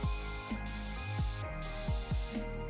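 A handheld water spray bottle is pumped several times in quick succession, each trigger pull giving a short hissing spray with clicky mechanical squeaks, close and fairly quiet.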